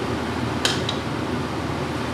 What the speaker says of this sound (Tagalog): Medyo maingay ang aking exhaust fan